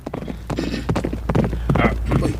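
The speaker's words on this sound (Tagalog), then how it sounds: "May mga tunog sa kabayo." Horse hooves approaching in a radio drama sound effect, a steady, fairly loud clip-clop rhythm of several hoofbeats.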